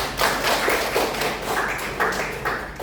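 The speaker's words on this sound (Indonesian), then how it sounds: "Kita kasih tepuk tangan dulu Anis." A classroom group claps steadily together, a dense patter of many hands, fairly loud and close, with no voices over it.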